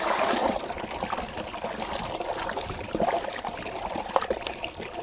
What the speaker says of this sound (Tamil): ஃபுல்லாக தண்ணி ஊற்றி